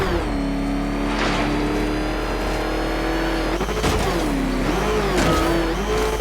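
The Batmobile's engine in the Batman Arkham Knight video game revs and surges, a loud continuous motor roar whose pitch swells and dips several times.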